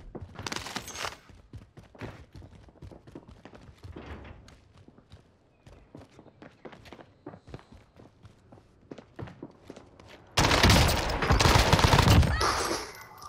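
Rapid bursts of PPSh submachine gun fire from the Warzone video game, brief volleys scattered among footsteps and movement, then a loud sustained burst near the end.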